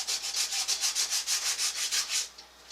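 A vintage Harmony House bathroom scale is hand-sanded with 100-grit paper before painting: about fourteen quick, even back-and-forth scrubbing strokes, close and fairly loud, then a brief pause.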